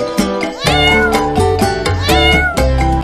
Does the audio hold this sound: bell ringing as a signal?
no